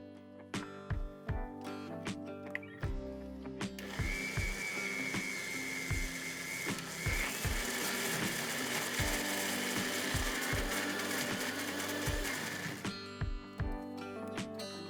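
A mixer grinder pulverises dry sesame seeds, the rattling seeds clattering first, then a loud continuous motor whine for several seconds before the rattling returns as it winds down.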